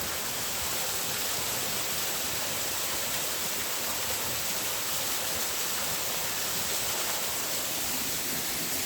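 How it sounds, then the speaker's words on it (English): A waterfall in native bush in the Port Hills roars in a constant, even rush of falling water, a broad hiss with no pauses from start to finish. "That's the waterfall."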